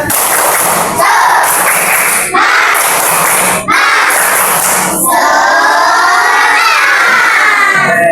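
Schoolchildren in a classroom loudly chant and clap in rhythmic bursts with brief pauses between, ending in a sustained group shout.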